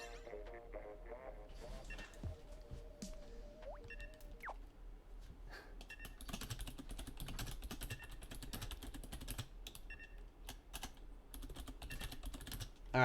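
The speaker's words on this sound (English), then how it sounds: "Sorry about the typing." Rapid clacking of computer keyboard keys in a gaming room setup, quick bursts of typing over steady background game sound with occasional faint clicks.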